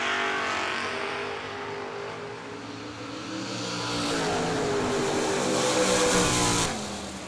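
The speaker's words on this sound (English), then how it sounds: "Chris Bowman, Pontiac Firebird 637 on the left side alongside Dennis Hall" Drag race cars, including a Pontiac Firebird, launch side by side down the strip in a loud, sustained engine roar that climbs in pitch as they accelerate, then fades abruptly at the end.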